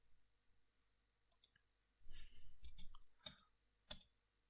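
Several sharp computer mouse clicks, close and fairly soft, come in a loose uneven sequence over a quiet background, with a brief rustle of handling between them.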